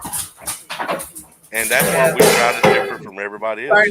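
Dogs bark, yip and whimper in the background of a conversation, their excited calls mixing with and partly masked by the voices of people talking nearby.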